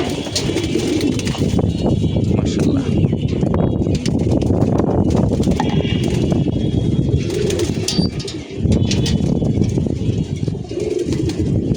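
A flock of pigeons coos and shuffles while drinking medicated water, a dense, loud, continuous burble of cooing and fluttering up close, with someone briefly speaking over it.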